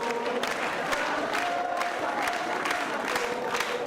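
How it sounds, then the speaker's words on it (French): A large crowd at a political rally cheers and applauds steadily as a former president enters, clapping mixed with shouts echoing through a packed hall. "C'est sous les acclamations d'une salle bondée et conquise que Nicolas Sarkozy fait son entrée."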